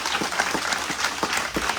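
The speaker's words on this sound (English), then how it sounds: "We give them a big round of applause" An audience at a press conference applauds, a dense patter of many hands clapping at moderate distance for a brief stretch.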